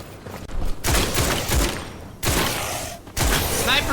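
Sniper fire in the video game Witchfire: three loud, close shots a little over a second apart, each followed by a rumbling echo, with someone talking in between.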